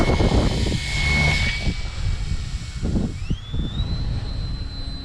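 An Arrows RC SZD 54 power glider's electric motor whines loudly on its maiden flight, a steady high drone that rises sharply in pitch as the model climbs, with wind buffeting the microphone throughout.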